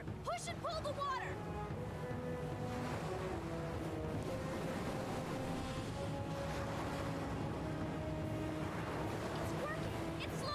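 Cartoon water rushing and churning around a boat in Avatar: The Last Airbender, a steady broadband wash running the whole time under talk and music.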